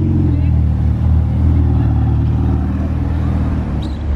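Ferrari 488 Pista coupe with blue and white stripes, grey wheels and yellow calipers rumbling near the Monaco casino, a deep, loud engine note throbbing steadily with a few throttle surges amid street noise and people talking.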